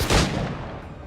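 A single loud gunshot at a shooting range in Assassin's Creed IV Black Flag, close and sharp, with a booming tail that fades away over about a second.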